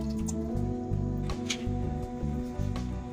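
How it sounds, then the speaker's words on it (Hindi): A glass of water is poured into a kadhai on a lit stove, a soft burbling, dripping splash running a few seconds beneath a steady tonal hum. "अब हम इसमें ऐड कर देंगे 1 गिलास पानी।"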